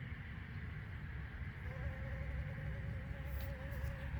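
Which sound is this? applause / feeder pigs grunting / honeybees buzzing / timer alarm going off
honeybees buzzing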